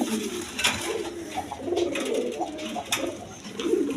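Indian Bombay pigeons in coops coo over and over in low, throaty phrases, several birds overlapping at close range in a steady, continuous murmur.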